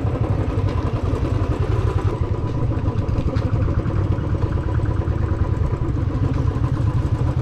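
A motorcycle engine idles nearby at Lal Tibba in Landour, Mussoorie, a steady low chugging rumble that runs unbroken throughout.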